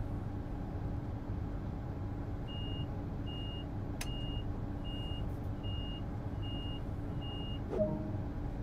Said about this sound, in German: Ja, dann schließen wir die Türen